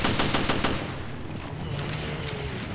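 Rapid bursts of gunfire in Resident Evil Revelations raid mode, a dense fusillade of shots at the start fading into a steady roar of continued firing and game ambience.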